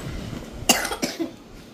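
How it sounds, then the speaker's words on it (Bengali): A young girl coughs, two sharp close coughs about a third of a second apart, with quiet room sound around them. "কাশি হয়েছে মেয়েটার আমার।"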